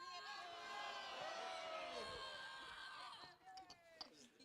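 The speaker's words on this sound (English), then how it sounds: "1 more great rousing cheer." A crowd gathered at ‘Iolani Palace gives a final great rousing cheer, a loud sustained mass of voices that tapers off after about three seconds into scattered calls and murmurs.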